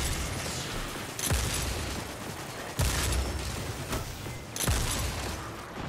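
Three heavy shotgun blasts in Destiny 2, spaced about one and a half seconds apart, each a loud booming crack over constant rumbling game noise, with no talk.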